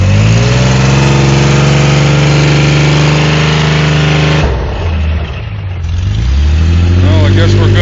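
Loud, close Toyota engine running steadily after mudding, with water in the exhaust, its drone dipping briefly midway before rising again; people talk over it.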